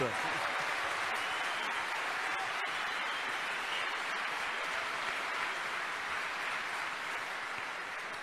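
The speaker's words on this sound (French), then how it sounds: "On peut l'applaudir très fort, on peut l'acclamer." An audience applauds the mayor of Balacette at a UPR anniversary gathering in France, a continuous wash of clapping that stays steady from start to finish, with a voice briefly audible over it.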